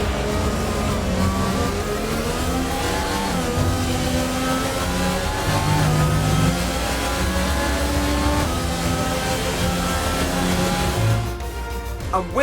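A Formula One race car engine in the F1 2020 video game, a loud, continuous high-revving whine that shifts pitch steadily as the car drives in, alone without talk.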